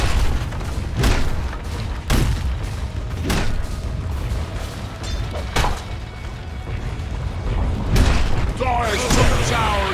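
Battle effects in Dota 2 as a bottom tower comes under attack, repeated heavy booms and hammer-like impacts roughly every second, loud and clustered, with a crackle of spell effects near the end.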